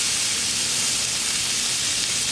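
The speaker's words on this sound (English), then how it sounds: "And just start searing our steak." A ribeye steak sears in hot oil on a shovel, giving a loud, steady, broad sizzling hiss that holds unbroken from start to finish.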